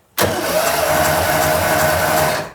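Engine cranking and running at full throttle during a compression test, a steady loud broadband roar that starts abruptly and holds for about two seconds, with no talk.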